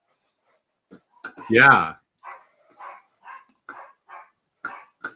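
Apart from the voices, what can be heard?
dog barking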